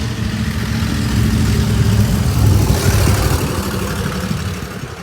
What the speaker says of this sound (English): Hold on, this truck is coming by.